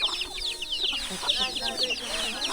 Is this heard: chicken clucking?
yes